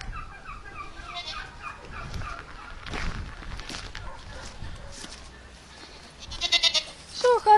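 Goats grazing at a village neighbor's farm bleat in a mixed farmyard where domestic turkeys gobble nearby, with a burst of louder calls near the end.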